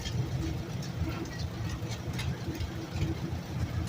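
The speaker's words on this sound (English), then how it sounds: "That's the Cormac Farmall 1947 Model BM with Ken Pittsburgh of Lake City and Terry S" A 1947 Farmall Model BM antique tractor engine runs steadily at an antique tractor show, a continuous low rumbling chug with faint ticking and no breaks.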